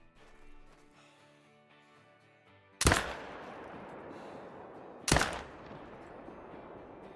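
Two sharp, loud 9.3 drilling rifle shots ring out in the Call of the Wild hunting game, taken at a black bear, each with a long rumbling echo tail, over quiet background music.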